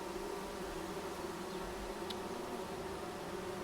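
Swarm of bees buzzing steadily in the forest video game Among Trees, a continuous droning hum heard alone with no talking throughout.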